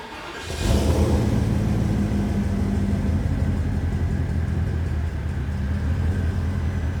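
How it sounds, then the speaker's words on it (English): A 2006 Porsche Cayenne Turbo S engine cold-starts and fires up, settling into a loud, steady low idle with a deep exhaust drone that holds for several seconds. "this is the cold start of a 2006 Porsche Cayenne Turbo S"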